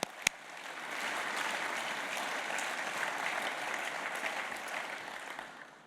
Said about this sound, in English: So round of applause to the guys.